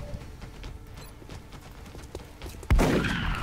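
Suppressive gunfire in XCom Enemy Within: a rapid, irregular patter of shots, then one loud close impact near the end that leaves a sustained rumble.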